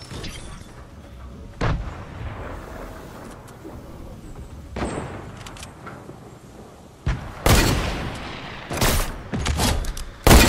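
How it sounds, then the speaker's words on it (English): A legendary sniper rifle fires in Fortnite, one of several sharp, loud broadband shots breaking over a steady game background, with a cluster of heavy bursts late on. "So just one sniper shot and we're good"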